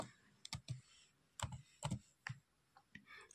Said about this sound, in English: we need to type here exit